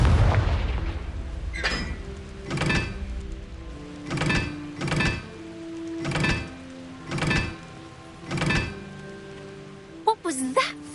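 Repeated Confringo blasting-spell explosions from the Hogwarts video game, about seven heavy booming bursts at a steady rhythm, with a brief sharp crackle near the end.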